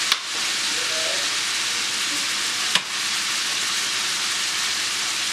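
Vegetables for chicken fajitas frying in hot oil, a steady broadband sizzle and hiss throughout with a couple of sharp pops or utensil taps near the start and midway.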